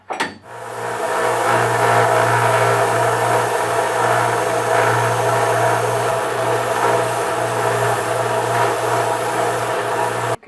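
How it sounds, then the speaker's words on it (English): A belt sander grinding gouged steel rollers gives a steady, loud, close whirring drone that starts abruptly, holds a constant tone for about ten seconds with light rasping texture, then cuts off. No one speaks. "So I'm going to try to take these off and put them on the sander, the belt sander."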